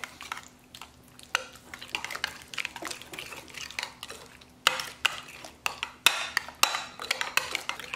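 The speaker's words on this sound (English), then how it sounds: "Mix it well." Ground spices (salt, cumin, coriander, Kashmiri chili, black pepper) are stirred in a bowl, with a utensil scraping and clinking against the bowl in irregular strokes and sharp taps, close and fairly loud, with no talking.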